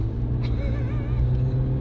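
A car rolls along on its first meters after new rims and suspension, a steady low rumble of engine and tires heard from inside, close and even, with a brief voice over it.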